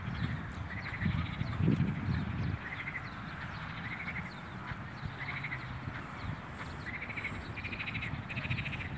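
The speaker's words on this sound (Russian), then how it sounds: "Ой, лягушки, ой, лягушки распелись." Frogs croaking in a park pond, repeated rhythmic bursts of chorus at moderate distance, with a brief low rumble early on and no talk.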